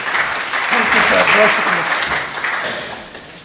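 An audience at a mushaira and book launch applauds to welcome a guest to the stage, a dense, steady wash of clapping that swells and then tapers off.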